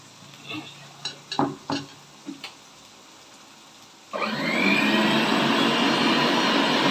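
Onions sautéing in a pan for Tamil-style egg gravy: a few scattered taps and stirring knocks at first, then a loud, steady broadband sizzle surges in and holds to the end, close and without talk.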